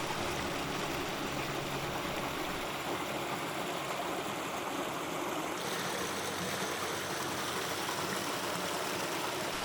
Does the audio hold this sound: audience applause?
no